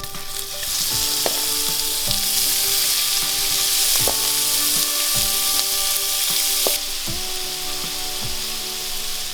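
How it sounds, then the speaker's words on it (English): Three cloves of minced garlic sauteing in bacon grease make a loud, steady sizzle close up, broken by repeated metallic clinks and scrapes of a utensil against the pan. "So I'm sauteing this garlic, and then I'm gonna add the shrimp in just a second."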